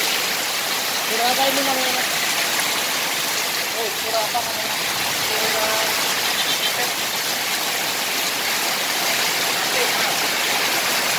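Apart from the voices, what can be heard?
very heavy rain in Jembrana, Bali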